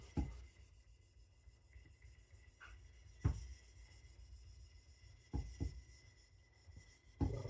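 A Victorinox Chinese cleaver is being gently thinned on a sharpening stone, giving a faint, steady rasp with a few sharper scrapes and knocks from repositioning.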